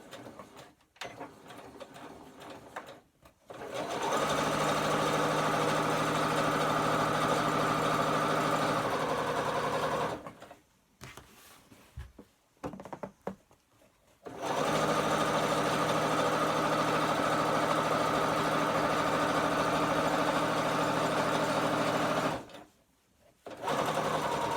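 A Butterick EB6100 sewing machine running an overlock stitch, close and loud in two long steady bursts of rapid mechanical stitching separated by short pauses with faint handling noise.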